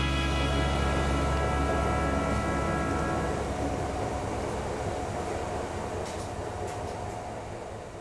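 Inside a moving train: a steady low rumble and hum of the carriage, a tonal drone fading after a few seconds, with faint clicks near the end and no talking.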